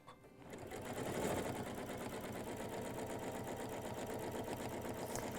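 A sewing machine hums steadily during free-motion stitching to couch yarn along a letter, its needle rattling in a fast, even rhythm close by after a brief quieter start.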